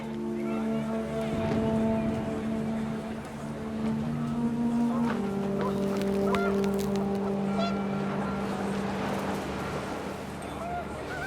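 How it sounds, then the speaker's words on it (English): Panicked geese honk in What Remains of Edith Finch as the wind picks up, a loud, overlapping chorus of sustained honks over a rushing windy background. "The wind picked up, and panicked geese appeared and quickly went."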